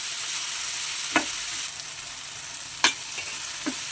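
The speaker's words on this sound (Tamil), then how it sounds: "நல்லா கிளறி விட்டுட்டு" Okra masala frying in a pan gives a steady close sizzle, with three or four distinct scraping strokes as it is stirred, no talking over it.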